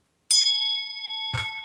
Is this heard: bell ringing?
yes